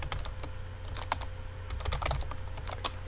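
Rapid, uneven keystrokes on a computer keyboard, close and clear, with irregular clusters of taps and no talk over them.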